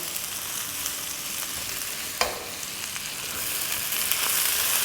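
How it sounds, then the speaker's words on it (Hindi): Vegetables sautéing in a hot pan for chicken chili noodles, a loud steady sizzle and crackle close up, with a single spatula scrape and stir partway through and no talking. "यहाँ देखें हमारी वेजिटेबल्स बड़ी गर्मा गर्म सॉटे सी हो गई है"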